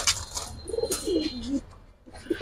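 Pigeons coo in soft, low warbling phrases in a loft housing Giribaj flying pigeons, with faint background clatter and no talking.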